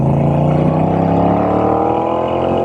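Engine of a Moto Guzzi V7 motorcycle accelerating up close, a loud steady drone whose pitch climbs smoothly through the gears, heard alone without talk.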